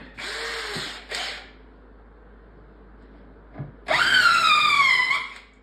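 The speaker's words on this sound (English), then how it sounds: "we can just use a little drill bit and go through the center of these ones" A small drill bit bores through wood in short bursts, a loud whining spin at the start and a longer, rising whine after a quiet pause.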